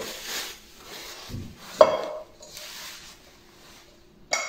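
Handling of a 24 cm non-stick casserole pot, with a few brief clinks and knocks of cookware, one sharp metallic tap near the middle and another at the end, moderately close and otherwise quiet.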